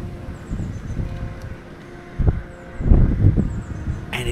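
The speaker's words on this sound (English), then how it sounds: "Sorry about the wind noise if it's really bad, but it's windy." Gusty wind buffeting an outdoor microphone near a Norfolk rookery of tall trees, a low rumbling roar that swells in bursts, with faint distant bird calls above.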